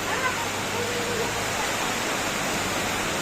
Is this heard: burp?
no